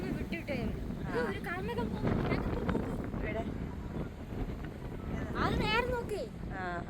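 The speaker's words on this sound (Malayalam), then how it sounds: "ഇന്ന് നമ്മൾ എപ്പോഴും വരുന്നേക്കാട്ടും കൂടുതൽ കാറ്റുണ്ട് കേട്ടോ" Strong wind at Narasimukku buffets the microphone with a constant low roar while people talk over it.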